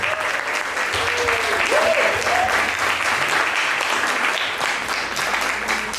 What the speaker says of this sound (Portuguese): uma salva de palmas para o Danilo